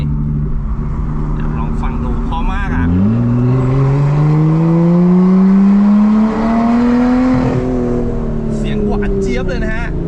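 Lotus Evora supercar with a Euro Arts exhaust revving, the engine note sweeping up through a long pull and dropping back, loud and close, with someone talking in between.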